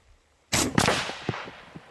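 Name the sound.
AEA Challenger Elite .457 big bore air rifle shot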